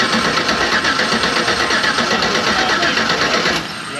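An LSX V8 engine in a street-legal stock car runs with a loud, dense, pulsing rumble, then drops abruptly in level just before the end.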